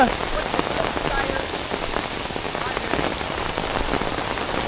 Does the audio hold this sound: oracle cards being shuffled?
no